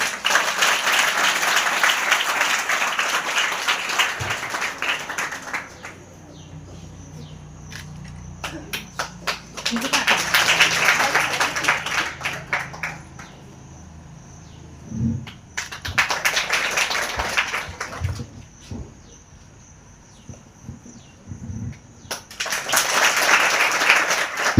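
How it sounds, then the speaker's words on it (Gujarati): Bursts of audience applause for scholarship students at a girls' education and school admission festival at an ashram school, three waves of clapping separated by quieter stretches with scattered claps and talk. "તો આ તમામ વિદ્યાર્થીઓ માટે પણ તાળીઓ થઈ જાય"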